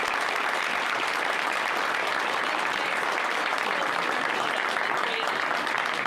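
Audience applause fills a borough council meeting room, a dense, steady round of clapping held at an even level throughout, with no break or speech.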